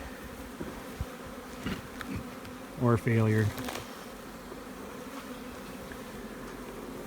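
Insects buzz steadily in the background, with one louder bee droning close by for a moment; a voice speaks briefly.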